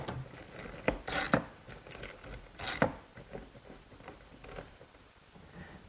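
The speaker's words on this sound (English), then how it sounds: "I'm just going to pre-punch for my screws using this little tool which has a plunger that makes the starter hole." Small plunger-style punch tool pressing screw starter holes into wood for a kitchen dresser, giving a few sharp, close clicks and snaps amid light rubbing and handling noises.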